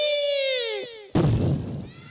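A voice imitates an elephant with a long, wavering trumpet-like call, followed by a sudden loud, rough burst of sound.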